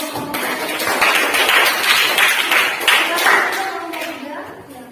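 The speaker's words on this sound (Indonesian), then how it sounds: "Oke, tepuk tangan dulu kalau begitu." Students in a classroom clap together after a group discussion, a brisk burst of hand claps that swells, stays lively and fades toward the close.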